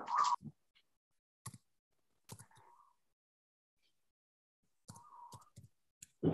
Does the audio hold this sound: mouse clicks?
yes